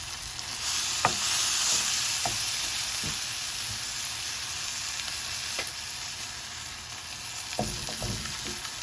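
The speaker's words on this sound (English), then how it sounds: "Add the lemongrass." Lemongrass sizzles and fries steadily in a pan for a chicken and papaya coconut stew, with a few scattered stirring scrapes and clinks over the constant crackle.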